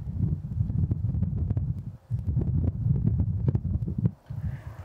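Strong wind buffeting a microphone outdoors on a golf course, low rumbling gusts that roar steadily and briefly drop away twice, loud and close with no talk over it.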